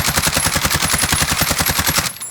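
Rapid automatic gunfire from a weapon in Call of Duty Warzone, a tight string of about twenty loud, evenly spaced shots over two seconds, ending abruptly.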